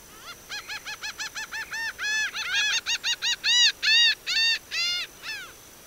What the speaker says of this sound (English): Laughing Gull.